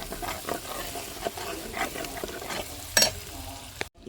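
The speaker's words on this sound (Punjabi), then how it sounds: "ਇਧਰ ਮਸਾਲਾ ਚੰਗੀ ਤਰ੍ਹਾਂ ਭੁੱਜ ਗਿਆ ਆ" Ginger and garlic spice paste fries in a pan, a close, moderate sizzle with intermittent spatula scrapes and a brief louder clatter near the end, no talking.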